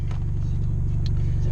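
A car's engine drones low and steady from inside the cabin while driving, a constant rumble with a faint brief rise near the end.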